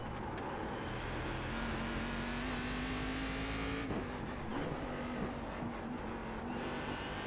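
A BMW M8 GTE race car engine drones steadily in the iRacing sim on the Belle Isle track, a sustained mid-pitch hum rising in pitch, briefly dipping, then holding steady under constant background noise.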